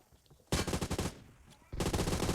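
Gunfire in the mobile battle game PUBG Mobile, loud bursts of rapid automatic fire in two close volleys separated by a brief quieter gap.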